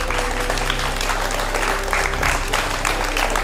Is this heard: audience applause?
yes